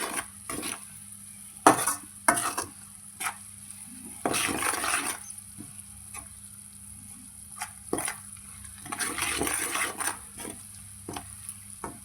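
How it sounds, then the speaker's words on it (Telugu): Chili powder stirred and fried in hot oil in a pan for a fish curry, with intermittent scraping clatters of a spoon against the pot over a steady low sizzle, close and moderately loud, no talking. "కారం బాగా ఆయిల్లో ఫ్రై చేయాలి"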